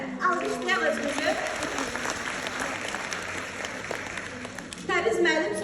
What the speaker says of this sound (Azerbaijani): Alqışlayaq özümüzü.